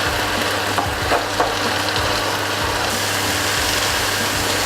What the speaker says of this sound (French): les épinards, je les ai mis à feu moyen et vous voyez, ça réduit très très vite, ça cuit très vite